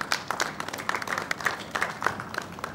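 Light, scattered clapping from a conference audience, a brief uneven patter of hands from a small crowd.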